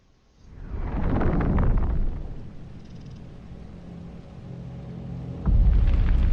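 A flashbang blast in Final Fantasy 16 bursts into a loud, dense roar that holds for about a second and a half, then settles into a lower rumbling tail before another heavy thump hits near the end.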